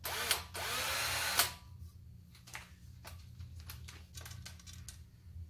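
A power drill strips copper coax cable jumpers salvaged from cell phone towers: a loud, steady whirring burst lasts about a second and a half, followed by scattered clicks and light rattles.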